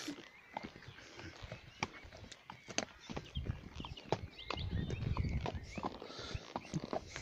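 A horse named Tori walks along, hooves clip-clopping in a steady, uneven rhythm at close range, fairly quiet, with a brief soft snort partway through and no speech.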